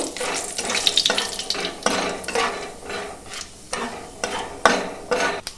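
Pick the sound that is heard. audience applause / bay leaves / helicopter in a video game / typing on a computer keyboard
bay leaves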